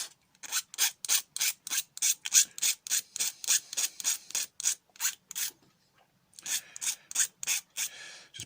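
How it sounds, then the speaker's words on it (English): Rhythmic back-and-forth strokes of a hand file rasping on a brass breech for a Buzzbee Sentinel blaster, roughly twenty steady close strokes, a brief pause, then several more. "That needs a bit of a file."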